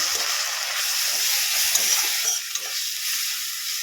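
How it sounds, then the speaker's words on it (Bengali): Ground cumin and coriander powder being stir-fried in a pan, a loud, dense sizzle with scraping stirs close up, continuous and without talk. "জিরে ধনিয়া গুঁড়ো ভালো করে এটাকে কষিয়ে নেব"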